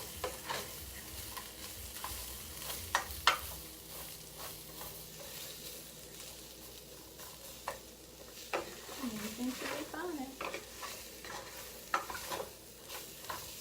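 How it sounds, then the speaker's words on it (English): Onions and potatoes frying in a pan for a vegetarian breakfast burrito, with a low steady sizzle and scattered stirring scrapes and clicks running throughout at a faint level. "let the onions and the potatoes cook some more until the potatoes are completely done and your onions are more sauteed"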